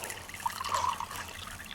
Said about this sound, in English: I'm going to fill my mug first so I know how much coffee I'm actually making.